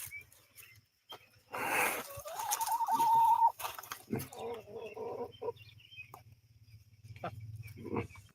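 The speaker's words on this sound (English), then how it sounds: "Look at that chicken in the back of the car" A chicken in the back of a car clucking and squawking in loud bursts, with a drawn-out call in the middle, over a low engine hum and background noise.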